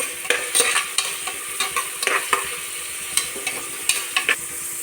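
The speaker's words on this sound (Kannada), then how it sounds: "ಗೋಡಂಬಿ ಹಾಕಿ ಚೆನ್ನಾಗಿ ಫ್ರೈ ಮಾಡ್ತಾ ಇದ್ದೀವಿ" Cashews and onion frying in a pan for bisi bele bath, a close, steady sizzle broken by quick scraping strokes of a spoon against the pan, with no voices.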